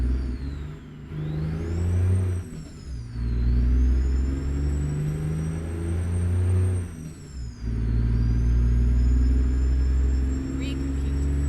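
A Freightliner Argosy truck engine in American Truck Simulator revs up and down repeatedly, a loud droning rumble that climbs in pitch, drops off briefly, then surges again.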